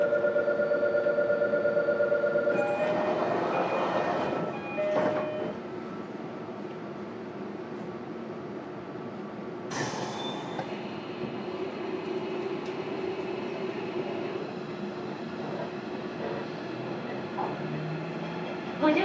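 JR Kyushu 305 series electric train running between Hatae and Tenjin: steady interior rumble and motor hum with tonal whine early on, a sharp transient near the middle, and continuous rolling noise throughout.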